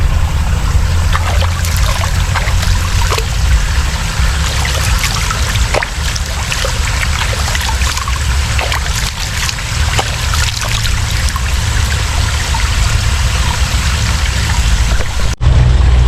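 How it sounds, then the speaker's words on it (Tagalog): A river flows in a steady, loud rushing wash with low rumble and trickling, unbroken for the whole stretch at a farm field, with no voices. "Ilog yan."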